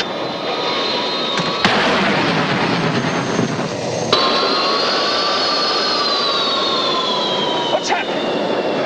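Aircraft engines drone steadily in flight, with the port engine losing power while the starboard engine keeps running; a loud, continuous jet roar with abrupt shifts and a rising whine.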